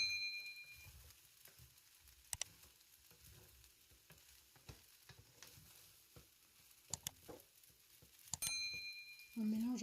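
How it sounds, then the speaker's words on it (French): Cooking juice is poured over Ghana-style fried rice with prawns in a hot pan, bringing on a soft, steady sizzle with stirring clicks and scrapes, quiet and close, and a few sharp metallic taps. "On y verse bien le jus de cuisson."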